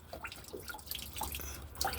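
Water trickles and drips steadily nearby from the engine drain port of a 2005 Larson 186 Senza boat, a light splashing patter with small droplets throughout.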